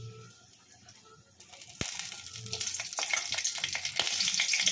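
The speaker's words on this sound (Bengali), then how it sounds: "এই যে ভেজে রেখেছি যে সবজি, সেই তেলের মধ্যে দিয়ে দিচ্ছি ফোড়নটা। প্রথমে তেজপাতা দিচ্ছি," Bay leaf dropped into hot oil left from frying vegetables, a tempering that bursts into loud crackling sizzle after a quiet start, close and continuous with spattering pops.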